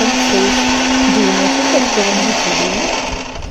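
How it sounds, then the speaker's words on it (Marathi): Mixer grinder blending masala with garlic and ginger for a spicy village-style mutton dish, a loud steady motor whir with a shifting pitch, running alone for a few seconds before easing off. "आता मिक्सरच्या भांड्याला व्यवस्थित मसाला आपण बारीक करून घेऊया"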